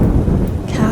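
A deep rumble of thunder rolls under steady rain hiss, loud and close, lasting only a moment.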